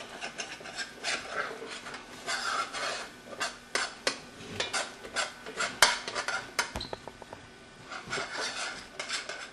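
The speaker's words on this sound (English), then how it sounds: "We're just going to keep stirring that around, letting it cook" Gravy for Salisbury steak made with chicken broth is stirred around a pan, with repeated rasping scrapes of a spoon against the metal, close and uneven in rhythm.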